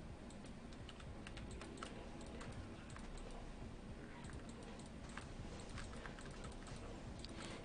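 Rapid, continuous computer keyboard clicking keeps up at close range for several seconds, faint but steady over a constant low hiss during a Diablo 2 gaming session.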